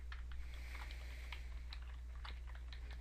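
Typing on a computer keyboard while a shortcut is entered in an Excel worksheet: light, quick key clicks scattered across a steady low hum, close and fairly soft, with no talking.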